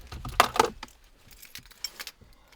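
A set of keys jangling close by, a couple of bright metallic shakes up front followed by fainter clinks and rattles.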